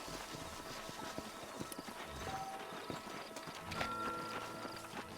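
Horses' hooves clip-clopping steadily in Red Dead Redemption, a dense run of hoof strikes with a faint whinny, heard alone at moderate volume.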